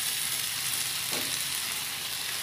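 Tofu skin and bell peppers stir-fry in a pan with a constant bright sizzle, one brief scrape of stirring in the middle, and no one talking.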